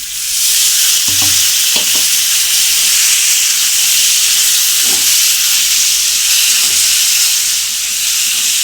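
Water poured into a hot spice mixture for kochur dalna sizzles loudly and steadily, a bright continuous hiss of steam and frying with a few soft knocks of stirring, no voices.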